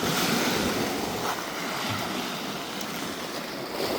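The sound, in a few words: ocean waves at high tide, Crescent Beach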